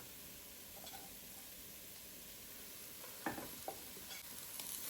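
A chicken breast mixture is stirred in a pan over a soft, faint sizzle, with a couple of brief spoon scrapes toward the end and no talking.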